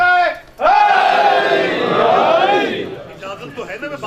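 Large crowd at a Shia religious gathering roars a loud, sustained slogan in unison after a leader's call, fading into scattered voices and chatter.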